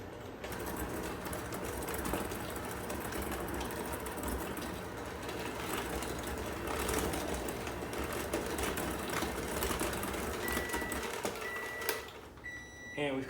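Electric mixer lightly creaming butter and sugar for pineapple upside-down cake, a steady close whirring drone running throughout, briefly dropping off near the end.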